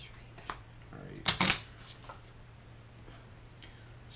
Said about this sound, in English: Kind of hurts me to shuffle without sleeves,